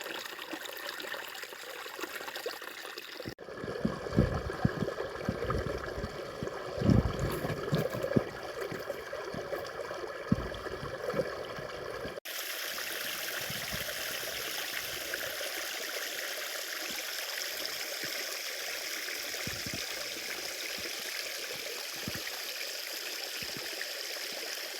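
A river stream flows at Frigolet near Barbentane with a continuous hissing rush of water, shifting between a brighter close trickle with splashy bursts and a fuller steady wash, without voices.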